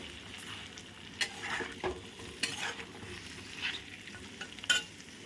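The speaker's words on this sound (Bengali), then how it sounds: "দিয়ে আবারও খুব ভালোভাবে নাড়াচাড়া করে মিশিয়ে নেব" Sweet ripe mango pickle with ground spices is stirred and fried in a pan over low heat: a soft continuous sizzle broken by several sharp spoon scrapes and clinks spread across the stretch.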